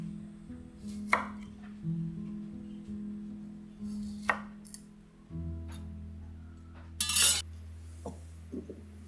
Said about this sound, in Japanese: 味噌キューに使うきゅうりをカットする。